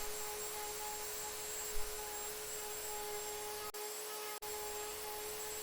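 A router fitted with a 1/8 inch bit carves wood, giving a constant, even motor whine and hiss throughout, broken only by two very brief dips, with no one speaking.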